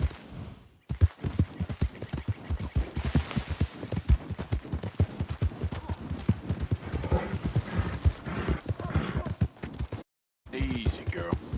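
Horse hooves in Red Dead Redemption 2 clip-clop in a fast, steady rhythm, loud and close. The sound runs almost continuously and breaks off briefly just before the end.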